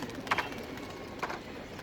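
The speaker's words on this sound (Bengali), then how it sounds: "এটা আমার ছাড়াই হয় কবুতর, আজকে ছাড়লাম ফার্স্ট।" Pigeons let out for the first time in a long while coo softly in two brief bursts, near and moderate in loudness, over a steady outdoor background with no voices.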